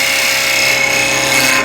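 A wood lathe turns a spindle for a bird feeder, giving a steady, loud, continuous whirring hum with a tool scraping against the wood, close by and uninterrupted, with no voices.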